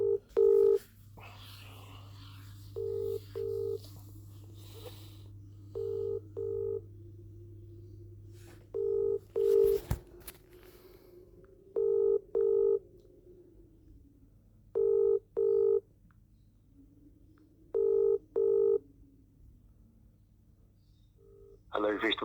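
A telephone call being placed: DTMF keypad dialing, then a repeating ringback tone in paired bursts spaced a few seconds apart, clear and steady over quiet line hiss.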